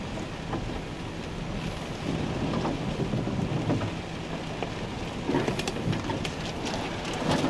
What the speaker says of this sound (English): So here we are trying to head out of Camp Freedom 2 in this rainstorm.